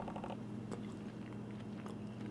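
A mouthful of burger with cheese patty and salsa is bitten and chewed close up, soft wet mastication with a few crunchy accents over a steady low hum.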